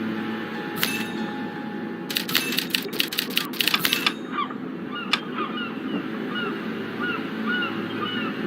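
Typewriter keys in the Murder, She Wrote video game clatter in a rapid burst of sharp clicks, with a few isolated taps before and after, over a steady game background hum with some honk-like tones.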